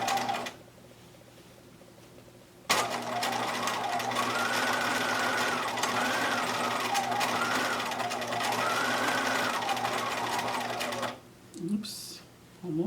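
A sewing machine stitches down the seam of a fabric face mask, with a steady mechanical whir running close and loud for several seconds after a short pause, then stopping amid light handling noise.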